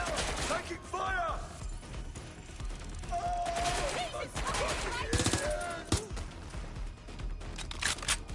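Dense game gunfire in Watch Dogs Legion: repeated sharp shots and bursts over about eight seconds, loud and continuous, with in-game voices calling out over the combat.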